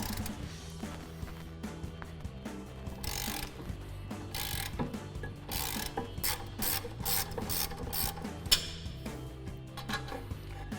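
A 1/2-inch ratchet loosens the brake caliper bracket bolt on a 2019-2024 Silverado 1500, rapid clicking bursts of the pawl repeating in quick strokes, close and fairly crisp, with no talk.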